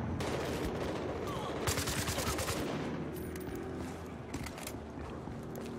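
Bursts of automatic gunfire crackle in Battlefield Hardline multiplayer on PS4, fairly quiet and mixed into ongoing game noise, with rapid volleys clustered near the middle of the clip.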